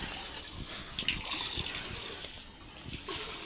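Water is poured out in a soft, continuous gushing splash, faint and close, with no talking over it.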